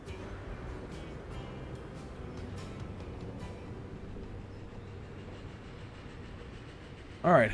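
A train rolls steadily through a canyon map in the Transport Fever 2 simulation game, producing a soft continuous rumble with faint rhythmic clicks, ending in a short louder burst.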